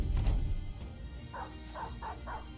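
Dog barks from Battle Brothers: four short, mid-pitched yips in quick succession over a steady low game rumble, moderately near.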